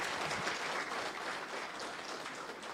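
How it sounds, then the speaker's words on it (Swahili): Applause at a football club luncheon, a dense steady clatter of many hands clapping throughout, moderately distant, with no clear speech. "Makofi jamani"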